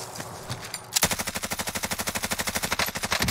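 Rapid automatic gunfire in Call of Duty Warzone, a loud, close burst of evenly spaced shots firing continuously after a brief lead-in of background game noise.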